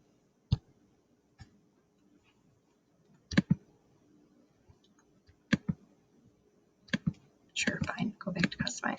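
Computer mouse clicks during spreadsheet work, heard as a handful of sharp, isolated ticks spaced a second or two apart, with quiet speech starting near the end.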